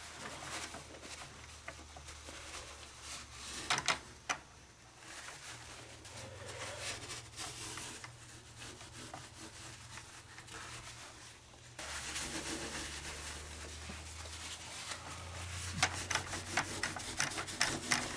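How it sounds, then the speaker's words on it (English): Paper towels rub and wipe across a window smeared with peanut butter, giving soft, uneven scrubbing and patting strokes that run on and off. A brief louder swipe comes near the end. "I'm going to use some paper towels and try to just give this a wipe to see if the stuff comes right off."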